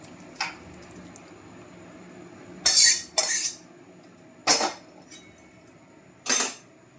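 Cooked curry poured out of a wok: a few separate metallic scrapes and clinks, each a short loud burst against a quiet background, with no voices.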